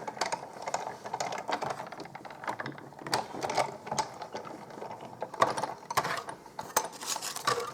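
A hand-cranked die-cutting machine is turned through a cut, giving a steady run of clicking, ratcheting gear sounds at close range with no talking.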